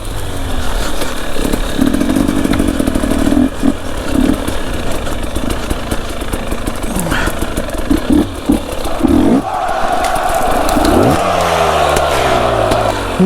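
An enduro motorcycle out on an autumn trail ride roars loudly and close, with the throttle blipped and revved in repeated surges before settling into a steadier, higher drone, and nobody speaks.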